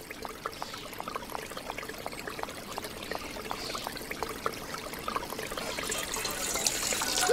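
Water trickles and pours steadily from a container in the PC adventure game Runaway 3: A Twist of Fate, a continuous splashing stream that grows slightly louder toward the end, with no voices.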